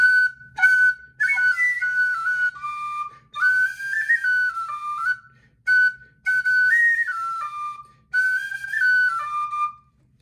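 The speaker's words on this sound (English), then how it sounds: "the penny whistle plays the verse" Penny whistle carrying an instrumental verse melody alone, bright and close, in phrases of a few seconds each separated by short pauses, with faint low accompaniment underneath.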